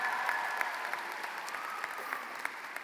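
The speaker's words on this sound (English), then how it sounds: "Give him a round of applause." A round of audience applause at a high school commencement ceremony, honoring a teacher of the year; dense, steady clapping from a crowd in a large venue, continuous and fairly distant.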